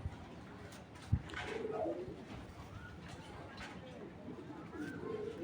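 Pigeons on a breeding farm give soft, repeated cooing calls at moderate distance, with a sharp knock early on and faint voices murmuring in the background.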